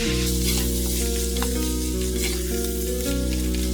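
Chicken keema with potato, seasoned with keema masala, sizzles loudly in a pan while it is stirred, with steady frying crackle and a few spoon scrapes close up. A low steady hum sits underneath.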